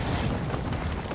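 A precision airstrike explosion in Call of Duty Modern Warfare II: a short, loud, close boom with rumbling debris, alone and without talk.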